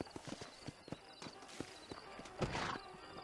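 Horse hooves clip-clopping in the video game Red Dead Redemption, a steady quick rhythm of close, crisp hoof strikes, ending with a louder rustling burst.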